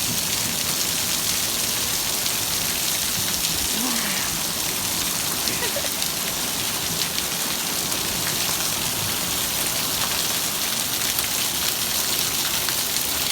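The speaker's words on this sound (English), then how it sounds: "Yeah, they are. They're hailstones. Can you see them now? Loads of them coming down." Hail and heavy rain pour down steadily during a Mojave Desert summer storm, a dense continuous hiss of drops and stones striking the ground close by, with a voice speaking faintly over it.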